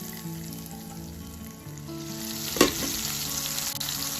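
Spiced mixture poured into a pot of khichuri on a rainy-day lunch, setting off a sudden loud sizzle and crackle partway through before frying settles back to a steady hiss.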